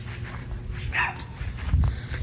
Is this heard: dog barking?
yes